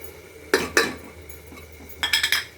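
Spices with red chilli, turmeric and kasuri methi are stirred in a pan for yellow moong dal, a spoon knocking twice against the metal, then a quick run of clinks and scrapes, close.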